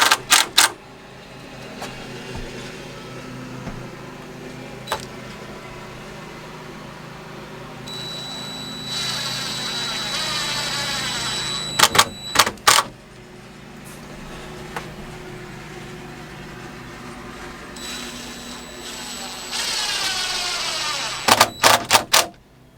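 A power drill drives screws into wooden boards for an outdoor griddle table, with two long whirring runs that each end in sharp clacks, alongside lower hum and clatter.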